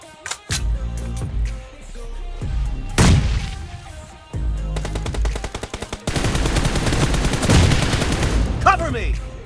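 Bursts of M416 rifle fire in BGMI team deathmatch, loud rapid automatic volleys broken by short pauses, with single cracks and clicks between strings of shots.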